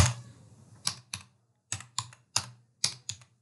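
Computer keyboard keys tapped while typing text into an Excel cell, a few quick clustered clicks separated by short pauses, close and crisp with no voice.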